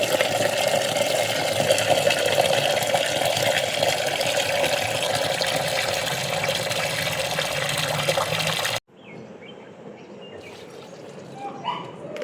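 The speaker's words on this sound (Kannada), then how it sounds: "ಇದರಲ್ಲಿ 1 ಜಗ್ಗು ನೀರನ್ನು ಹಾಕ್ಕೊಂಡು" Water from a jug gushes steadily into a container for about nine seconds, a full, splashing pour that cuts off abruptly and leaves quiet room noise with faint small clatters.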